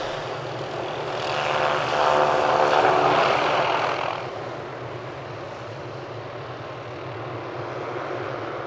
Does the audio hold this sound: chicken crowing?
no